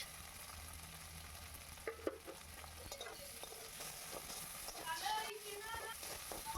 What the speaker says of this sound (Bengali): পেঁয়াজগুলোকে আমি ভালো করে ভেজে নেব